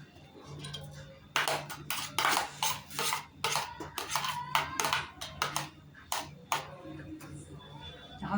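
Sliced onions dropped into a cooking pot give a run of close, sharp clatters and rustling knocks against metal, with faint voices underneath at times.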